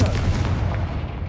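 The Confringo explosive spell blasts in Hogwarts Legacy, a single heavy booming burst that rolls out and fades over about a second.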